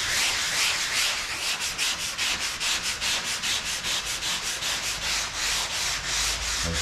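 Hand sanding of a drywall patch in circular strokes, a steady rhythmic scratchy rubbing repeated about twice a second, close and continuous with no talking.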